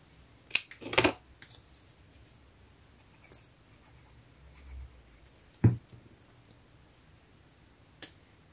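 Scissors cut through material in a few short, sharp snips and clicks spread across a quiet room, with the loudest near the start and isolated ones later.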